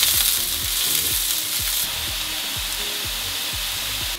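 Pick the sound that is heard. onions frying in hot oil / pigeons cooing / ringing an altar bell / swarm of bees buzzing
onions frying in hot oil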